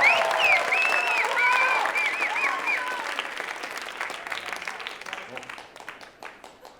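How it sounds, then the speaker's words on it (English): Student audience at a school writers week event applauds a poet, with cheers and whoops over dense clapping at the start, then the applause gradually fades. "Let's give him a round of applause."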